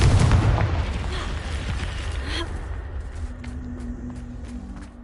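A Confringo fire spell bursts in Hogwarts Legacy with a loud booming blast that decays into a rumbling tail, followed by quieter game ambience and a soft tonal hum.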